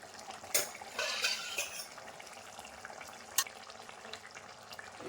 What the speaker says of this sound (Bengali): রান্নাটি আরও প্রায় 10 মিনিটের মতো ঢাকনা দিয়ে রেখে দিতে হবে, যত সময় না গ্রেভিটা এইভাবে ফুটে ওঠে।